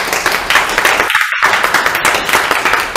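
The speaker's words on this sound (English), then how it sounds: "Let's wrap it up. Another round of applause." Applause from an audience closing a dissertation talk, a dense steady wash of many hands clapping at fairly even level for a few seconds, with a brief dip partway through.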